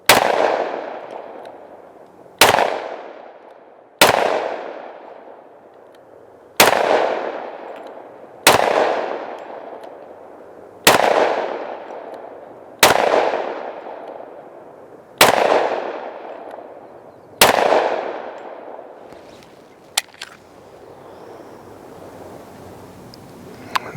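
Ten loud shots from a Smith & Wesson M&P 2.0 10mm pistol, fired one at a time about two seconds apart outdoors, each with a long, booming decay.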